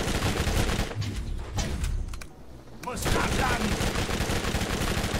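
A weapon in the video game Borderlands fires in a rapid, loud burst of shots, then drops quiet briefly before another dense burst of gunfire starts. A voice talks faintly underneath.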